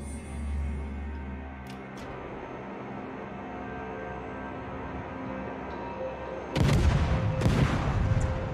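Warship guns fire in World of Warships, with a low rumbling boom early on and two heavy, loud blasts near the end against a steady background of distant naval combat.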